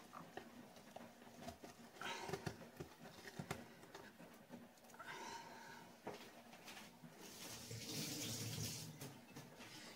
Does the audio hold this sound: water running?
yes